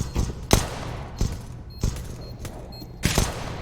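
Pistol fire from P250 sidearms in a CS:GO pro match, a few sharp close shots at irregular intervals over a dense, busy game mix.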